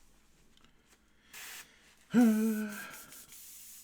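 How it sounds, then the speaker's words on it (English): An airbrush sprays plain water into open air in two short hissing bursts, one brief and soft, then a longer one. A voice sounds over the second burst. "When it's just water, I just spray into the air kind of thing."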